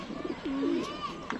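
A female pigeon on a rooftop coos, giving one low, rolling coo near the middle, close and clear over a faint background murmur.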